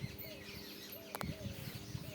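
Faint sparrow chirps from a nest repeat every so often in the background, short thin tweets rising above a low, steady outdoor rumble.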